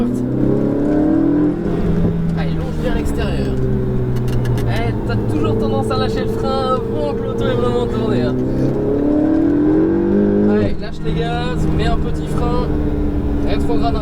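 A Ferrari 488 GTB engine revs and accelerates hard on a racetrack, its pitch climbing through the gears in loud, sustained sweeps while an instructor talks over it throughout.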